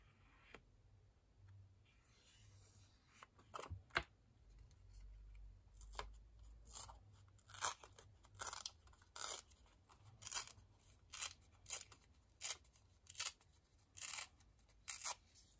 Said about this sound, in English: Let's rip it.